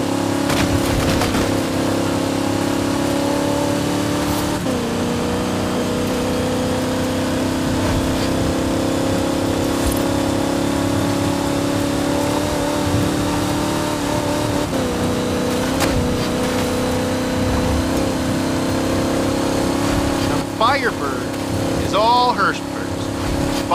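A big-engined, heavy car in Forza Horizon 5 drones steadily throughout at a fairly constant pitch, loud and close, with a few shifts and revs near the end.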